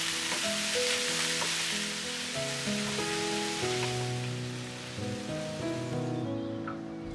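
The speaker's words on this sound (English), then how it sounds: "Add the frozen peas and cook for some time" Onion, garlic and frozen peas sauté in a pan, giving a steady, close sizzle and crackle throughout with no talking.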